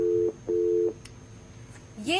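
An unanswered outgoing phone call: a steady ringback tone sounds in two long bursts, then a pause, with a brief rising electronic chirp at the end, close and clear.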